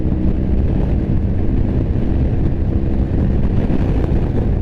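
Steady, loud rumbling roar of a Ducati Multistrada motorcycle moving past, with heavy wind buffeting throughout and no clear rise or fade.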